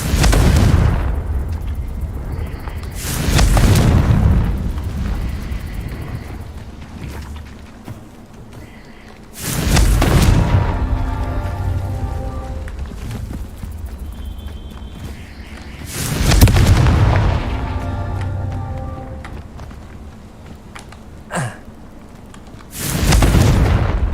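Confringo blasting spells explode in Hogwarts Legacy, four loud booming bursts spaced several seconds apart, each followed by a rumbling decay with no talk.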